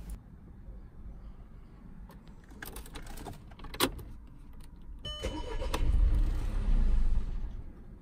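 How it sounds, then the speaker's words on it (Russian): A 2009 Audi A3 engine cranks in short bursts without catching, followed by a louder rumbling engine noise; no speech. "Жалом ключа несколько раз включаем зажигание. Двигатель не запускается."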